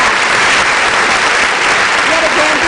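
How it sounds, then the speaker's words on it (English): Loud, dense audience applause fills a youth leadership debate final, unbroken clapping from a large crowd with a speaking voice faintly beneath it. "A round of applause right there."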